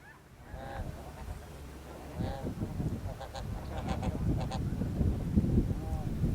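Greater snow geese calling in short, barking honks, several birds overlapping at moderate distance in an open marshy setting, with a steady low rumble beneath and a faint voice speaking at times.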